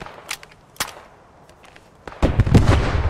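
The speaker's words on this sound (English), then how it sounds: "Is that you shooting?" Gunfire in the World War II shooter Post Scriptum: a few scattered sharp shots early on, then a louder, denser burst of overlapping shots and impacts near the end.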